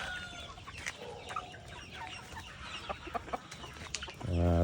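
Rhode Island chickens, crossbred birds on a farm, clucking in short irregular bursts at moderate distance, with a louder low-pitched rumbling burst near the end.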